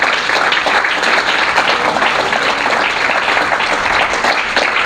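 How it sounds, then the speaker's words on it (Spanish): Loud, continuous congregation applause at a Spanish-language church service, a thick even roar of many hands clapping that lasts throughout with no voices on top. "Denle un aplauso al Señor"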